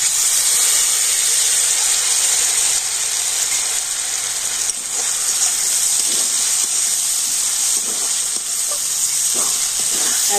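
Semolina soaked in milk sizzles in hot ghee in a pan, giving a loud, steady hiss throughout with faint scraping and stirring noises and no talk.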